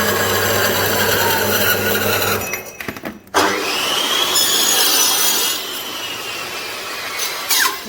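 A saw cuts steel stock for welded framework, with loud, continuous rasping and grinding strokes, a brief break mid-cut, then steady cutting again, up close in a workshop.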